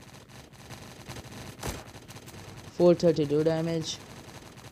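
Video game gunfire comes as a short burst of rapid shots partway through, with a sharp earlier crack, over quiet game ambience, and someone talks briefly.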